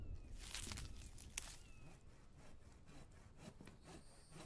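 Video-game sawing as wood is cut into boards, a rough rasping stroke sequence with a few sharper knocks and faint background ambience.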